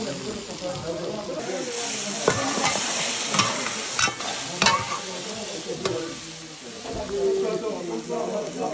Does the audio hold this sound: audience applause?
no